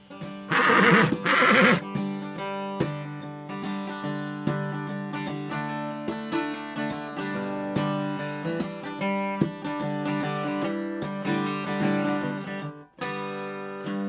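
A horse neighs loudly at the start, then music with sustained tones and a steady beat carries on, with whinny-like sounds woven in.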